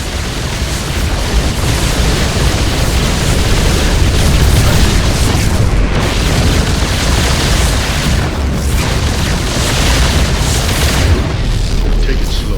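Heavy, continuous explosions pound during a bombardment in the StarCraft II Wings of Liberty campaign, a dense rumbling barrage of booms with no breaks.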